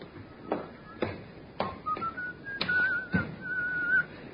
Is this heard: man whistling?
yes